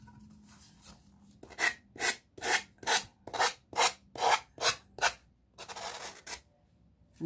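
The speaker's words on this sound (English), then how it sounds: "And sand down those edges." Sanding the edges of a DIY monogram, about ten rhythmic rasping strokes in quick succession, close and clear, followed by a softer rub and a faint background hum.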